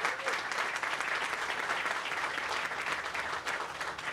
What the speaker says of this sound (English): can you give a round of applause to the mayor's office